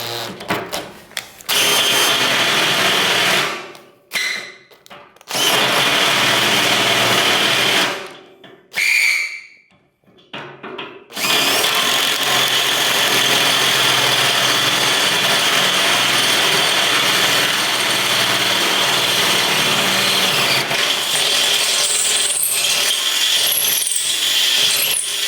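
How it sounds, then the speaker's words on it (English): A power drill runs loud and close, opening up a hole in a metal griddle with a welded-on repair, in long sustained whining runs broken by a few brief stops. "I'm just going to open up this hole a little bit more,"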